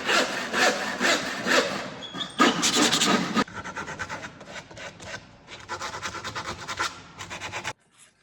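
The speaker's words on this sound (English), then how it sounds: "And then all we need to do now is cut that area out." Hand sawing through wood to make a cut-out for a squirrel feeder front, steady rasping back-and-forth strokes in repeated bursts, close and fairly loud, with no talking.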